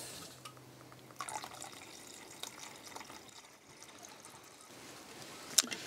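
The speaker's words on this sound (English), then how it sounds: "now I need to add 200 milliliters of thinner" Paint thinner poured into wine red paint, a soft, continuous liquid trickle and splash heard close but quietly, with a few faint clinks, and no voices.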